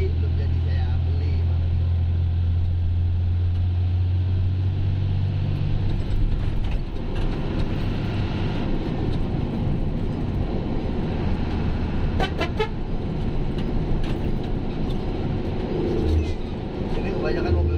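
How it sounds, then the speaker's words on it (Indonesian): Traffic on Sumatra's central highway toward Padang, with engines droning and rumbling past nearby, a horn tooting in the middle, and a voice talking over the road noise. "Ini kebanyakan mobil super yang lewat."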